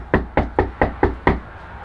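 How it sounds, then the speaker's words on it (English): Knocking on a house door: six evenly spaced, firm raps in a steady rhythm, heard close and clear with no talking. "Let's go knock on his door."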